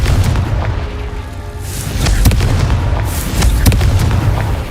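A Confringo blasting curse explodes in the video game Hogwarts Legacy, giving loud, close, booming blasts with sharp cracks over a rumbling, sustained roar.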